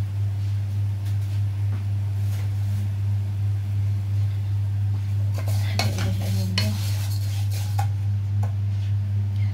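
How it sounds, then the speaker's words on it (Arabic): A spoon stirs vermicelli in a pot over a constant low electrical hum, with scattered scrapes and a brief cluster of clinking metal knocks midway, close and fairly clear. "نقلب كده الشعريه."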